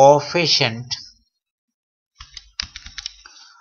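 Computer keyboard keys tapped while entering a CORREL formula into an Excel spreadsheet, a short irregular burst of close clicks after a person finishes speaking and a pause.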